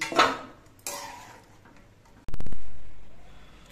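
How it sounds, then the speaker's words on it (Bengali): Boiled jackfruit seeds are scooped from a pot into a bowl in a home kitchen: a few close metallic clinks and scrapes, then a sharp ringing clang that fades slowly. "এবার গ্যাসটা অফ করে দিয়ে আমি বীজগুলো একটা গামলার মধ্যে তুলে নিচ্ছি।"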